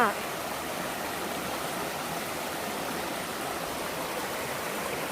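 A steady, even roar of rushing water from Phlio Waterfall in Chanthaburi, Thailand fills the scene, constant and broadband without pauses or changes.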